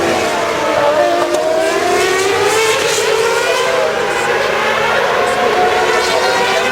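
Formula One cars at the 2012 Australian Grand Prix during qualifying: loud, continuous engine roar with rising and falling pitch as cars pass, layered engines overlapping, with faint crowd or commentary mixed in.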